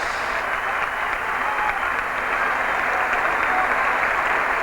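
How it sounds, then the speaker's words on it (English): A football crowd of Hull City fans at a Division Two match against Bradford City applauding a departing fullback, with teammates joining in: a steady, even wash of clapping that holds throughout. "He receives a strong round of applause from his teammates and from the Hull City fans."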